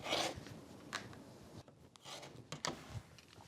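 Trimming a fabric quilt strip to size for a log cabin quilt-as-you-go block gives a series of short, close rasping strokes, with quieter pauses between them and no talk.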